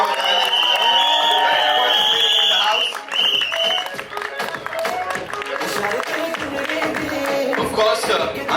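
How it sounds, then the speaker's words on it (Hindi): Applause and cheering from the audience at a Bollywood trailer launch for Kuch Khattaa Ho Jaay, loud and dense, mixed with music tones and overlapping voices, dipping briefly midway before swelling again. "जोरदार तालियां हो जाए"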